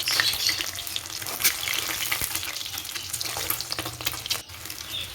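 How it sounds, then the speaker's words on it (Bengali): Half-boiled eggs fry in oil, giving a steady, close sizzle and crackle with occasional stirring scrapes and no talking. "একটু সাবধানে ভেজে নিতে হবে ডিমগুলোকে"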